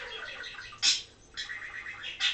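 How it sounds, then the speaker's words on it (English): Several birds chirp indoors in a house in short, bright bursts, with two louder calls standing out against a faint background. "there's multiple birds in this house"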